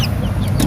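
Hens cluck low and close alongside the thin, high peeping of young chicks in a brief farmyard burst.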